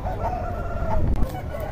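A rooster crows at a bustling village country-chicken market in Nallapadu, the call rising over a dense bed of low crowd noise and other birds, fairly close and steady for under two seconds.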